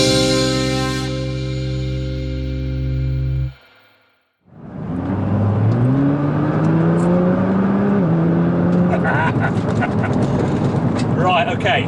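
A Nissan GT-R accelerates hard, its engine note rising in sweeping pitch climbs after a brief pause, loud and close from inside the car, with people talking over it.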